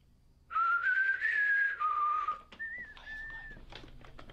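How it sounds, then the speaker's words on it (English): A person whistles a long wavering tone, then a shorter second phrase after a brief break, clear and close against a quiet background, with no talk. "You need to whistle to them and maybe they'll whistle back."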